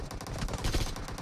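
Rapid gunfire from a video game shooter bursts out in dense, loud, continuous volleys, close up and unbroken across the moment, with no voices over it.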